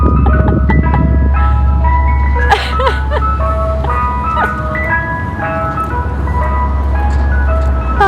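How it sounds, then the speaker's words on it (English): Ice cream truck parked in front of houses along Flatbush Avenue in Brooklyn, playing its tinkling melody loudly and continuously over a deep idling engine rumble, close by, with no talking. "this ice cream truck just keeps playing its song right in front of all these houses."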